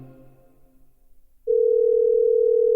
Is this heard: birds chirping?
no